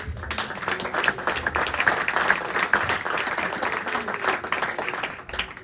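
A church congregation applauds together during a Pentecostal service, dense sustained clapping filling the room at steady volume before easing off near the end, with some faint voices mixed in.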